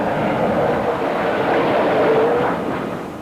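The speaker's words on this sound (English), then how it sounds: "Aircraft all over the place." A jet aircraft roars loudly and continuously on the deck of the aircraft carrier Kennedy during launch and recovery operations, a broad, steady engine rush that swells slightly and then eases, with no voices.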